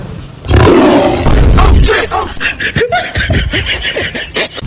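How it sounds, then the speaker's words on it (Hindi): A lion roar sound effect played back at close range, a loud rough roar that then breaks into shorter choppy bursts, with a little voice activity mixed in. "कभी शेर का आवाज आ रहा है"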